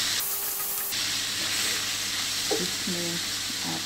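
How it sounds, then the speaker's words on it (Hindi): Chicken sautés in about three tablespoons of hot oil, a soft steady sizzle and hiss under a brief burst of louder frying noise early on, with faint clatter of stirring. "3 टेबलस्पून डाला है ऑयल और इसमें ये चिकन रहेगी। चिकन को हम सौते करते हैं जल्दी जल्दी।"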